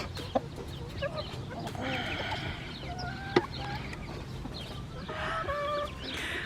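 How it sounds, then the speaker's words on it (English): Free-ranging homestead chickens, including a silkie and barnyard mixes, cluck softly and intermittently outdoors at a moderate distance, with a faint background and an occasional sharper call. "we have started to let the chickens free range when we are out here"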